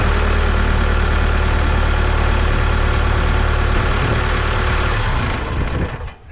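An old Isuzu diesel engine in a six-wheeled skid steer, revived after sitting for 15 years, idles steadily and loudly up close, with a dense low rumble and knocking texture that fades out at the very end.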